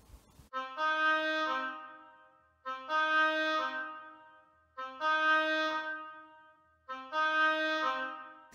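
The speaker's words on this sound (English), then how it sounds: "It's called an oboe." An oboe, a reed instrument, plays four sustained, bright reedy notes with short silences between them, clear and close with no other sound.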